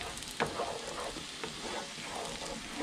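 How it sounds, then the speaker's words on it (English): Parsley being stirred through sizzling butter in a pan while cooking cobia, a fairly quiet continuous crackle with light scraping stirs and a few small pops, close by. "So we got a lot of parsley in there. I'll stir that around a little bit."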